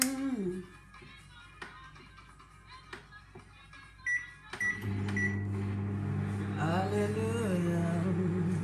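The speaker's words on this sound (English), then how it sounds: "I need to melt it a bit in my microwave." Microwave oven heating bell pepper in a home kitchen: a few clicks and knocks, then a steady low electric hum starting midway and running continuously to the end, close and moderately loud.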